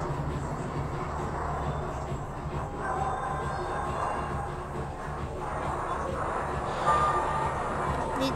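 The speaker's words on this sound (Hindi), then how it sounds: "तो ये अभी ट्रेन चलने लगी है जो नंबर 4 पे" Train starting to move in an Indian train crossing 3D video game, a steady low rumble and rolling hum that holds throughout at an even level with a slight swell near the end.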